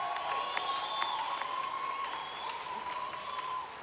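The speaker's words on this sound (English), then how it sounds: "Give him a round of applause, ladies and gentlemen." Audience applause at the Golden Shears 2014 junior shearing final, a steady wash of clapping held at an even level throughout, with a few tonal voices or calls sounding over it.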